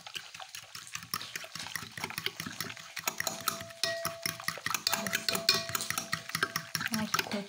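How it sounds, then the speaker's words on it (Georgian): Eggs being whisked into an activated milk, yeast and sugar mixture, a fast steady clinking and sloshing rhythm of a whisk against a bowl, close and continuous. "ვქეფავ კვერცხს"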